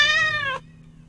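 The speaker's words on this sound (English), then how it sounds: "I heard a cat kitten." A single short cat meow plays as a sound file in an app, clear and tonal for about half a second before cutting off abruptly into a faint background hum.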